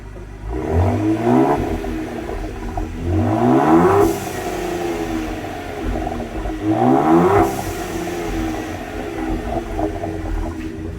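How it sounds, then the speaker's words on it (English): A Ford ST fitted with an MBRP axle-back exhaust is revved three times from idle, each blip rising quickly to a loud, raspy roar and then falling back to a burbling idle between revs. "I'm gonna get my wife to give it a little couple revs."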